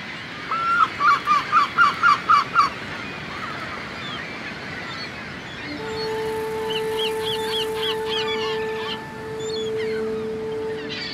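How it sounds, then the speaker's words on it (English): A yellow-legged gull gives a fast series of loud, repeated laughing calls on a coastal cliff colony, followed by a sustained tone and more distant colony calls. "Yellow-legged gulls are a good example."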